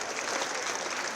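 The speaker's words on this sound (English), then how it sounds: "Certainly want to give another round of applause to all of our scholars for their wonderful accomplishments" Dense, steady applause from a banquet audience honoring student scholars at an academic excellence awards event, a continuous wash of many hands clapping with no pauses.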